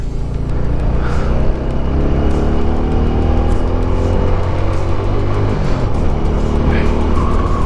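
A heavily loaded car crosses a bumpy off-road track on the Zojila pass between Srinagar and Kargil, giving a loud, continuous engine and road roar with rattling jolts throughout.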